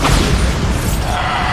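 A loud, rumbling blast from the Bombarda explosion spell in Hogwarts Legacy fills the whole moment, a deep boom with a sustained roaring tail.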